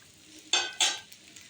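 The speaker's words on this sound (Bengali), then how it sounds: "আমচুর পাউডার দিয়ে নেড়ে নিয়েছি বন্ধুরা" Amchur powder being stirred into vegetables in a pan, heard as two short, bright scraping strokes close by with quiet pauses around them and no voice.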